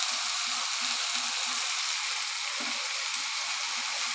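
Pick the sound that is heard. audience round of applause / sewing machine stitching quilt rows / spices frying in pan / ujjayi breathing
spices frying in pan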